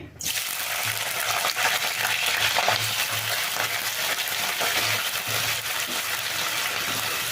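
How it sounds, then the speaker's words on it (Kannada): Raw banana pieces dropped into hot oil in a pan, setting off a loud, dense, continuous frying hiss right after a brief start, with no talking. "ಎಣ್ಣೆ ಬಿಸಿ ಆದಮೇಲೆ ಹಾಕ್ಕೋಬೇಕು ನೀವು ಈಗ ನಾನು ಬಾಳೆಕಾಯಿ ಹಾಕ್ಕೊಳ್ತಾ ಇದ್ದೀನಿ"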